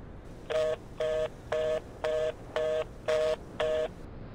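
Seven evenly spaced telephone dialing tones beep in a steady rhythm, each a short clean tone burst over a faint line hiss, with no talk.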